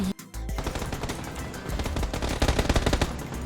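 Gunfire in the battle royale game PUBG: after a short lull, sustained rapid automatic fire that grows denser and louder, close shots overlapping with more distant ones, with no talking.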